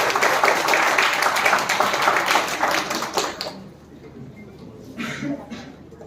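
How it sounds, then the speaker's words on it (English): Audience applause at a national education workshop in honour of a dean, a dense burst of clapping for about three seconds that fades out before a voice begins speaking. "I request a big round of applause for Dean's first full-time director"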